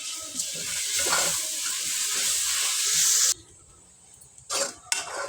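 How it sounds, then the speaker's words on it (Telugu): Onions frying in a pan for a chicken curry while being stirred: a steady, loud sizzling hiss that cuts off abruptly partway through, followed by a quieter pause and brief bursts of renewed sizzle and scraping. "ఆనియన్స్ అడుగంటకుండా ఇలా మధ్యలో కలుపుతూ ఉండాలి"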